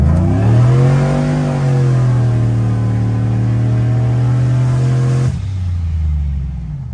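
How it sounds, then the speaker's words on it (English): A Chevrolet Silverado pickup on Hoosier slicks launches hard from a standstill for a 0 to 60 run. The engine roars loud and close, holds a steady high drone, then drops off sharply near the end. "Alright, 0 to 60. Let's see what this thing does"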